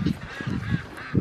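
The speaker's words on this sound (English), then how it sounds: "My birds, this is the welcoming committee when they know you got goodies." Blue slate and lavender turkeys call in a loud, near flock, with repeated honking gobbles rising and falling in bursts about every third of a second.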